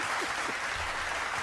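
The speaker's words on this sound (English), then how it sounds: "a big round of applause to all of you" An audience at a televised quiz show applauds the contestants with a continuous wash of clapping, moderately loud and even, across the whole short stretch.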